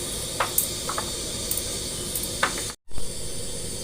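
Steady hissing and bubbling of water boiling in a pot for snakehead fish sour soup, with a few brief clinks and a momentary cutout near the end.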